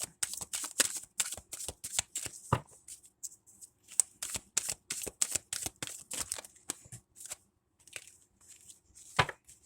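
Rapid, papery riffling and flicking of tarot cards being shuffled in quick bursts, with a few brief pauses and a couple of sharper taps, close and clear.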